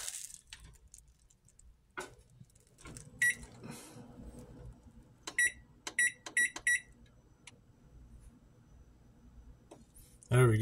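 An oven's electronic control panel is set to 400 degrees for a Papa Murphy's pizza, giving a series of short, sharp beeps, some in quick clusters, between quiet pauses and faint background voice.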